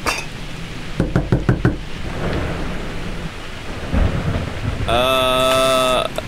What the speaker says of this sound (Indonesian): Tidak menerima tamu, jangan dodok-dodok.